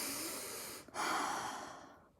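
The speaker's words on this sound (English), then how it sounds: "I'm breathing deeply" A single deep, breathy inhale and exhale, close and soft, with a brief pause between the two breaths.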